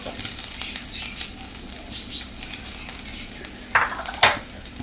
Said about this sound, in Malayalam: ഇഞ്ചി വെളുത്തുള്ളിയും ചതച്ച് കൊടുത്ത്